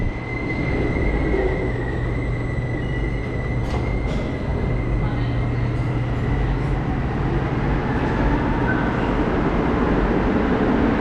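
A Montreal green line metro train runs near LaSalle station, a loud, steady rumble of wheels and motors throughout with a faint squeal, no talking.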